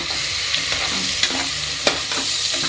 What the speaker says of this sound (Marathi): ब्राऊन कलर होईस्तोपर्यंत छान तळून घेऊया